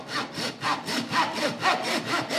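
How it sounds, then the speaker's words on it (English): A hand saw cuts back and forth through rib bones, about ten even strokes with a rasping, gritty texture, close and fairly loud. "we are going to saw through these rib bones"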